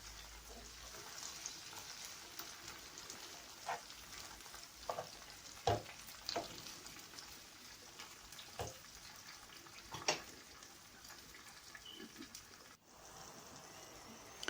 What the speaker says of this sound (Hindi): टमाटोज़ भी ऐड कर देंगे। मिक्स करेंगे इसे।